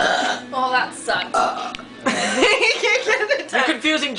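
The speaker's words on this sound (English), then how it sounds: "No, I can burp." A person lets out a loud belch after drinking soda, with several burping bursts among chuckles and casual talk from people close to the microphone.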